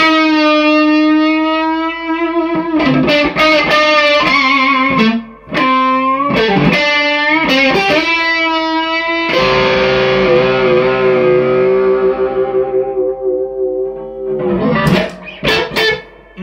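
Electric guitar played through an OCD overdrive pedal, loud driven notes and chords ringing out with sustained tones and rhythmic picked passages, alone and close.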